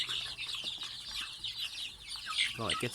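About 75 breeding chickens on a farm cluck and chatter continuously at close range, several birds overlapping, with a louder call near the end.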